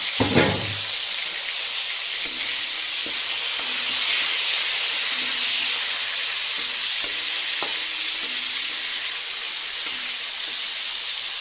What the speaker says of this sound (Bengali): মাছের মাথাটা ভেজে নিই, ভেজে আর তুলবো না